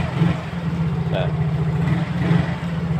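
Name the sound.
Yamaha Mio GT scooter engine running with electronic throttle body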